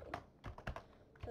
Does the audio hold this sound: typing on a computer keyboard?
yes